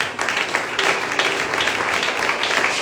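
A church congregation applauds at a sermon, producing a steady wash of many hands clapping, moderately loud and dense, continuing evenly for a few seconds.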